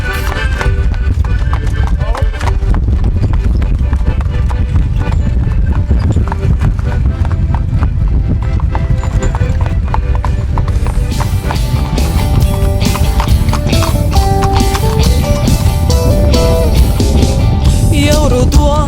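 Horse hooves clip-clop in a quick, steady rhythm under a continuous music track, loud and close throughout as the rider sets off.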